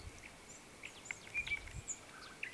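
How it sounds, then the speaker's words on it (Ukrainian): A nightingale sings near a pear tree by a river, giving short, sharp chirps and whistled notes scattered irregularly over a quiet outdoor background, fairly faint and distant. "Чуєте? Соловей, точно."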